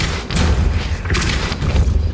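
The Depulso spell strikes in the Hogwarts Legacy video game with heavy thudding booms, a couple of dull forceful impacts over a loud rumbling game background.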